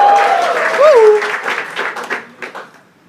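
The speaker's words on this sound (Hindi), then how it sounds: "एक बार जोरदार तालियां भाई" Audience applause and cheering rise and then fade over a few seconds, with a voice briefly audible over the crowd.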